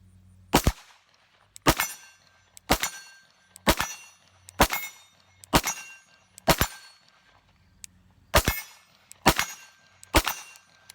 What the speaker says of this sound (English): We're going to fire on this A-zone piece of steel at 25 yards.